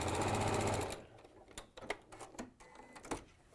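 A sewing machine top stitches fabric in one loud continuous run lasting about a second, then stops, followed by scattered clicks and handling knocks.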